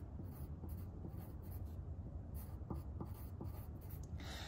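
A pen scratches on paper as a number is written by hand, with soft continuous scraping and a few sharper strokes, close and quiet with no voices.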